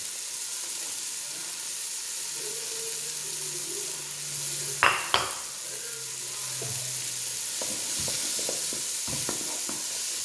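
Green onion sizzling over medium-low heat in oil and rendered chicken and sausage fat for gumbo, a steady close hiss with a few sharp scraping stirs and clinks partway through.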